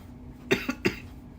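Three quick, dry coughs in a row, fairly close, with quiet background before and after.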